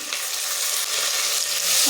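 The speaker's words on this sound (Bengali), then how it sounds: "ভালো করে ভেজে নেব।" Close, crackling sizzle of chopped capsicum, green chillies and tomato frying in a hot pan, with stirring scrapes, continuous throughout and no voices.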